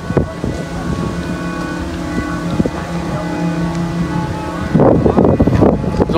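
Strong wind blows outdoors at a kite-flying field, a continuous loud rushing roar that swells into heavier gusts toward the end.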